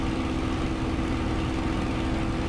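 The engine of a FlyingIron Simulations Spitfire Mk IX in Microsoft Flight Simulator, climbing with boost increased, gives a steady, continuous droning roar with no change across the moment.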